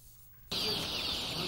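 A large flock of chickens at a poultry farm, heard as a dense chorus of clucking and calls that starts abruptly after a brief quiet moment and continues steadily.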